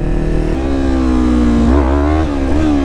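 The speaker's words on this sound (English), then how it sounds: "it'll just power wheelie up" A Yamaha R3 motorcycle engine revs hard and steady as the bike power-wheelies, its pitch climbing with a couple of brief dips and surges, loud and close throughout.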